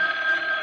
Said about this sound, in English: As I reached my apartment, the phone was ringing.